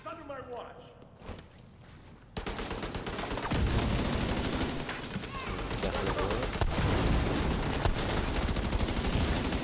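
Heavy automatic gunfire in The Division 2 builds into a sustained, loud barrage after a quieter opening with scattered shots, with a voice talking over part of it.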